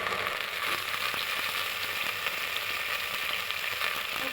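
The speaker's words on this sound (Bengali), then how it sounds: "স্টিলের পাতিলটা আমার গরম হয়ে গেছে, এখন আমি ঢেলে দিচ্ছি পরিমাণ মতো সয়াবিন তেল।" Soybean oil hits a hot steel pot and sizzles in a steady, bright, continuous hiss, close and even, with no speech over it.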